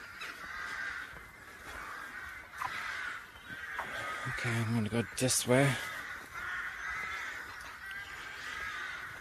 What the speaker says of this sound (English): Oh my god, the birds are so loud.